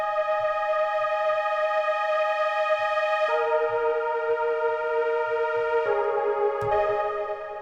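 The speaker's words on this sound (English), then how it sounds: "this other synth that is called Left Field Pad that we talked about in the last video" The Left Field Pad synth sounds sustained, bright chords in a metal breakdown, the harmony shifting twice as it holds, with soft low thumps underneath and a brief sharp hit near the end.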